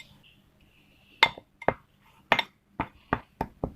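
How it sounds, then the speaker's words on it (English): Waffle batter mixed in a bowl, a utensil striking and scraping the bowl in a quick run of sharp clinks and taps, close and clear, with quiet background between strokes. "Now you guys need to mix this all up."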